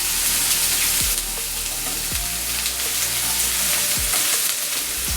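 Chopped onion pieces frying in oil for Hyderabad-style ginger chicken, a loud dense hiss running throughout, with a few low thuds from stirring spaced a second or two apart, no voices.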